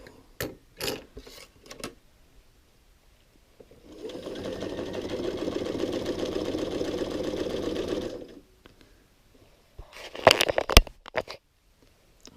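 A sewing machine runs steadily for about four seconds, stitching fabric toward a marked point, with short handling clicks and rustles before and after it stops.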